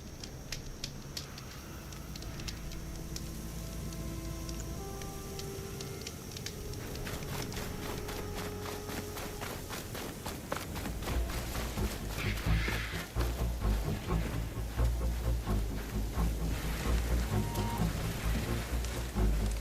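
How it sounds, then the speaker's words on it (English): Steady rain in the Horizon Forbidden West video game, a dense hiss and patter that continues throughout, with a low rumbling bed and game music or effects growing louder in the second half. "Rain's finally stopping."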